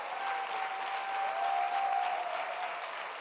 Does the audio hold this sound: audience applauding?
yes